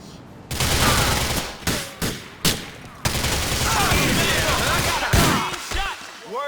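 Gunfire from cover in GTA 4, a dense fusillade of repeated shots and bursts with sharp onsets and short gaps, loud and close, with faint voices mixed underneath.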